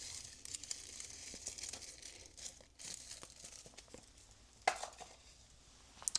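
A small paper advent calendar envelope being opened: quiet, close crinkling and light tearing of paper with a few sharper rustles and snaps, no talking.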